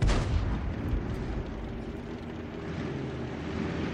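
An artillery gun fires in a tank video game, an M44 self-propelled gun: a heavy boom opens the clip and then trails into a long, loud rumbling roar that fades slowly.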